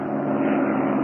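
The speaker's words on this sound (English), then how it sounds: "I think whoever was in that plane has gone" A propeller airplane drones overhead as a radio drama sound effect, a steady, loud, broad engine roar that holds evenly throughout without fading.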